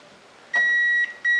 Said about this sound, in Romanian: În acest moment vom porni imprimanta.